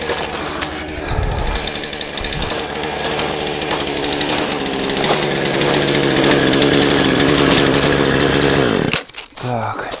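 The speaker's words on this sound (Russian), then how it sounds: "Так, пила работает." A loud power saw cutting wood roars continuously, its engine buzzing steadily before cutting out abruptly near the end.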